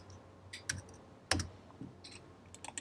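Faint, scattered clicks from a computer keyboard as a value is entered, a handful of separate key taps spaced irregularly in a quiet room.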